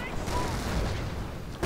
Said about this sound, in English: catching quite a few here in a several explosions of grenades